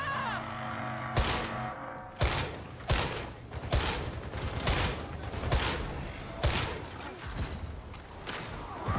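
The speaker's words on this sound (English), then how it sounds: "We'll just shoot him in the head" Gunfire from the game Darktide: repeated sharp, loud shots ring out at uneven intervals, layered over dense background combat clatter with no pauses.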